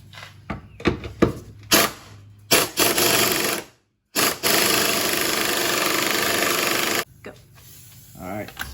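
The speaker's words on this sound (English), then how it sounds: "now we're gonna remove the 4 bolts of the front drive shaft" Rusted front drive shaft bolts coming off an Infiniti G35, with loud bursts of power-tool hammering in short stabs and then a long sustained run, close up, alone without talk.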